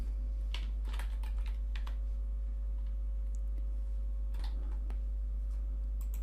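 Close keyboard typing as a message is entered into a website contact form, irregular bursts of soft clicks with pauses between, over a steady low electrical hum.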